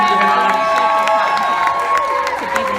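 A crowd at a Mardi Gras party in Key West cheers and applauds loudly and steadily, with claps and shouts blending into a dense, continuous roar.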